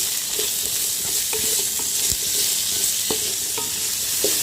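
Onion, green chili and curry leaves sauté in masala for chicken stew, giving a loud, steady sizzle broken by irregular scrapes and taps of a spatula stirring through the pan.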